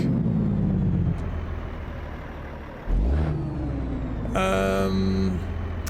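A simulated Caterpillar 3406B diesel in a truck in American Truck Simulator rumbles low and steady, drops off briefly, then surges back as the engine revs up through a rising, harmonic-rich pull, with a voice talking over parts of it.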